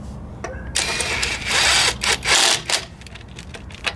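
Cordless 18V brushless 1/2-inch impact wrench, a Makita knockoff, hammering in loud bursts of rattling impacts separated by brief pauses, close up and without speech.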